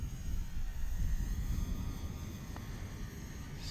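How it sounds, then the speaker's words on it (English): An Eachine P51D Mustang RC plane flies at around three-quarters throttle, a steady, fairly faint whine and buzz held at a distance outdoors. "Just a quick flight of the Mustang, just to show you that I think it is smoother."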